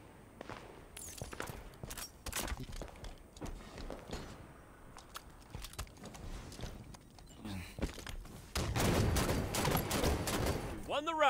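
Rifle shots from a DMR in a competitive league video game match, a burst of loud, rapid gunfire near the end following scattered footsteps and lighter shots, with a commentator talking over it.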